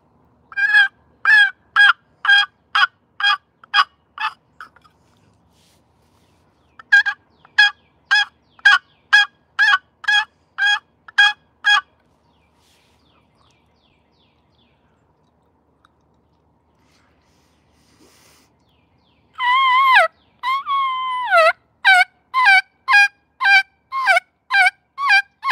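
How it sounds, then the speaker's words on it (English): A turkey hunter works a mouth call to copy the sound of a box call, producing loud, close runs of sharp yelping clucks in several rhythmic bursts separated by pauses, the last series rising into raspier, drawn-out yelps. "I'll kind of try and mimic the noise with the mouth call that I make with the box call"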